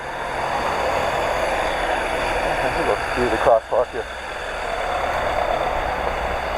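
Street traffic passing through a small Sicilian town: engines idle and roll by at close range, with a louder vehicle sweeping past midway while a person talks over it.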